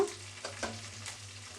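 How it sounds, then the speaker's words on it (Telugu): Curry leaves and green chillies frying in a pan, a soft continuous sizzle with a few light stirring scrapes, quiet and close. "అన్నీ ఇలా బాగా ఫ్రై చేసుకుందాము"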